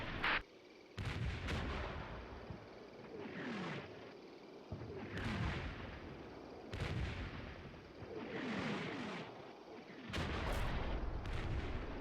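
Artillery barrage in the Normandy wargame Combat Mission Battle for Normandy, with repeated heavy shell impacts and booming detonations rolling in every second or two, loud and dense with no talking over it.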